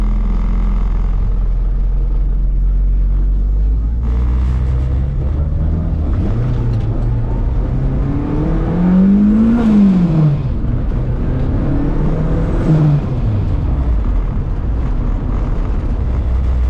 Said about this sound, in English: So I'm gonna let this car warm up a little bit.